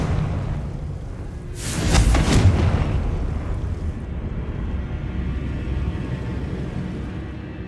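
A Confringo fire spell from the game Hogwarts Legacy bursts in a single loud explosive blast, followed by a low lingering rumble over steady ambient game noise.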